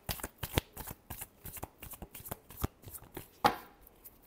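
Close riffle of playing cards being shuffled for a tarot reading, a quick run of crisp flapping clicks ending in one louder snap as the deck settles.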